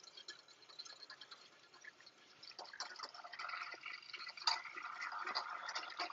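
Sugar dissolving in water while being stirred for simple syrup, a faint continuous liquid swirl with light clinks and drips, growing slightly louder toward the end, no talking.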